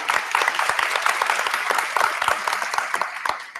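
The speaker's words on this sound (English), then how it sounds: "Give yourselves a round of applause, come on." A crowd of graduates and guests at a 2017 summer graduation ceremony applauds, with steady, dense clapping that runs throughout and fades slightly at the end.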